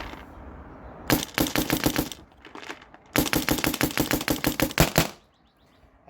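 A Planet Eclipse EMEK 100 paintball marker fires in two rapid strings of loud, sharp cracks at close range, roughly a second and then two seconds of quick shots separated by a short lull.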